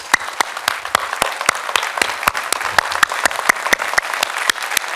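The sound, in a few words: audience applause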